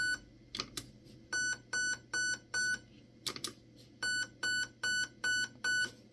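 A series of short, high electronic beeps from a Raven Evolution Furion ETU airsoft gun control board during programming sounds in groups, first single chirps and then a run of evenly spaced tones, with mechanical clicks between.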